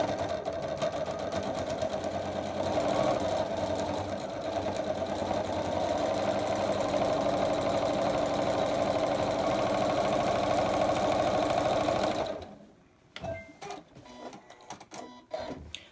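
A sewing machine stitches fabric pieces with a rapid, steady mechanical chatter for about twelve seconds, then halts, followed by a few soft clicks and handling noises.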